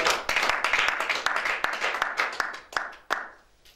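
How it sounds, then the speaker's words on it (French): A church congregation claps and cheers in praise, a dense burst of many hands with sharp individual claps standing out, loud and close before fading toward the end. "On acclame Jésus. Alléluia"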